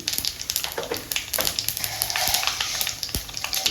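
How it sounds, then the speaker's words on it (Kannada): Mustard seeds and cumin frying in hot oil crackle and pop in a dense run of sharp little bursts over a soft frying hiss, close and fairly quiet, with occasional stirring scrapes. "ಎಣ್ಣೆ ಬಿಸಿ ಆಗಿದೆ ಸಾಸಿವೆ ಜೀರಿಗೆ ಹಾಕೋಣ ಸ್ವಲ್ಪ ಸಾಸಿವೆ ಹಾಕ್ತಾಯಿದ್ದೀನಿ ಸ್ವಲ್ಪ ಜೀರಿಗೆ ಹಾಕ್ತಾ ಇದ್ದೀನಿ"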